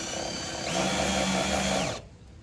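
A small battery-operated Ryobi drill winds a caravan stabiliser leg, a short close whirring burst of about a second and a half that stops abruptly.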